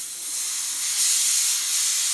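Steam hisses steadily as pressure is let out of a canner, a loud, close, unbroken rush that swells slightly midway, with no speech.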